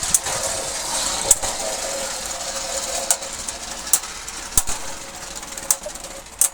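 Beyblade Burst spinning tops whir in a battle arena with a steady high metallic buzz. Several sharp clacks mark the collisions, scattered over a few seconds, and faint voices sit underneath.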